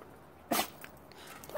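A dog gives one short, sharp sneeze, followed by faint snuffling in an otherwise quiet room.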